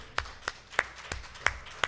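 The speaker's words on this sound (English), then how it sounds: "give Al Yankee a huge round of applause" Scattered handclaps from an audience applauding a guest named Al Yankee at a gathering: about six distinct, fairly close claps, irregularly spaced, with no talking.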